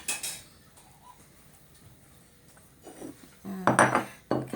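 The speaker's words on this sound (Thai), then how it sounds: "เดี๋ยวขอหยิบจานก่อน" A plate is picked up and dishes clink in a home kitchen while a cucumber salad roll is being made: a quiet lull with small taps, then a burst of close ceramic clatter and clinks near the end.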